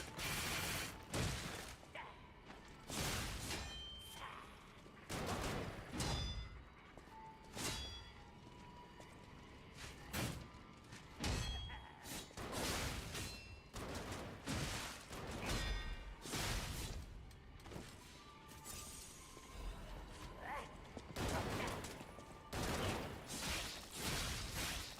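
Enemy gunner firing in a video game, a dense, loud run of repeated mechanical shots and clanking impacts that pulse steadily throughout, with rushing in-game action layered underneath.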